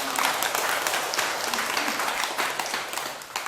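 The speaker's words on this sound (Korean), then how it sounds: "박수 한번 부탁드립니다." Dense audience applause in a lecture hall, a burst of many hands clapping at once, fairly loud and close, holding steady for a few seconds before easing slightly.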